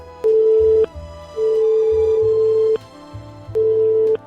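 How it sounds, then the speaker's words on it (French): A telephone call rings out on the line, with three long steady tones separated by pauses, clear and close, with no talking. "On lui passe un petit coup de fil."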